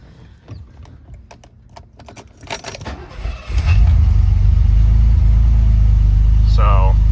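Keys jangle and click in the ignition of a BMW E12, then the cold engine cranks and catches into a loud, steady, low rumbling idle.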